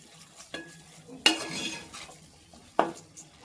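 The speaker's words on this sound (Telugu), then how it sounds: "ధనియాల పొడి, గరం మసాలా పొడి కూడా మంచిగా కలిసేలాగా కలపండి." Coriander powder and garam masala being stirred into a village-style egg curry in a pan, three distinct scraping strokes of a spoon against the pan over a faint sizzle, close and without speech.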